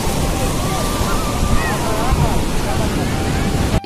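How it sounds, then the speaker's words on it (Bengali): Sea waves surge and wash up onto a beach in a steady, loud roar with wind buffeting the microphone, while people talk over the surf nearby. "যত বেলা হচ্ছে ঢেউ এবার উপরে চলে যাবে।"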